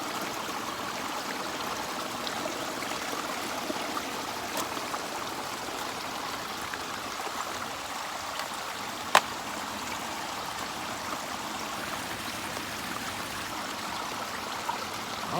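A small stream of water flows outdoors with a continuous soft rushing and trickling, steady and close throughout with no talk.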